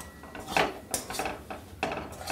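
A utensil scrapes and clinks against a pan while a chyawanprash mixture with tulsi powder is stirred and fried over low heat, a few irregular metallic taps and scrapes, fairly quiet and close.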